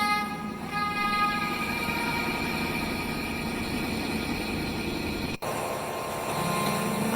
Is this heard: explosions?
no